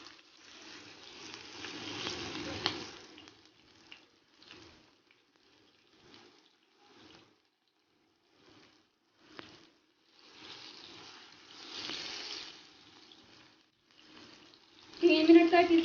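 Aloo chapli kababs frying in a pan just after being flipped, with two broad swells of sizzling around the start and middle, faint clinks and quieter gaps between, and a louder burst at the end.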